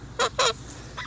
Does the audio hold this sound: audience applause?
no